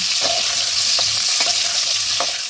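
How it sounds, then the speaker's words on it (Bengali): Kohlrabi and potato chunks sizzle steadily in a hot pan while a spatula scrapes through them in a few distinct strokes. "এবার ওলকপি আর আলুটা আমি ভালোভাবে লাল লাল করে ভেজে নেব।"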